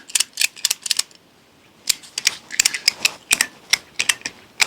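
A strap is ratcheted tight around a tree to secure a hunting tree stand, giving close, crisp bursts of rapid clicking in two groups separated by a short pause.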